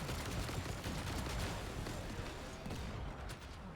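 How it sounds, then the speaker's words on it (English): Semi-fire shots at pylons in Warframe, a rapid cluster of sharp gunfire bursts over steady game noise, fairly quiet and distant in the mix, with a voice talking over it. "We're now going to shoot the pylons in our semi-fire mode."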